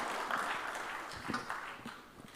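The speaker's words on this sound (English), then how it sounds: "Can we have a collective round of applause, please?" An audience at a hotel industry association's annual convention session claps in moderate, sustained applause that sounds somewhat distant and even throughout.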